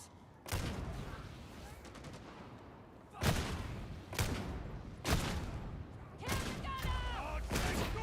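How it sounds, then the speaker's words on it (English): Heavy bolter gunfire in a Warhammer 40k video game, with loud booming shots firing singly and in short bursts over a constant rumbling battle backdrop, and brief voices in the mix. "Missing with a bolter feels so bad."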